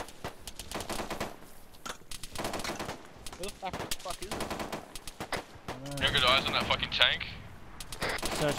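Gunfire in Arma 3 during a squad battle against armor, with bursts of automatic fire and scattered single shots near and far, mixed with radio chatter and shouted voices.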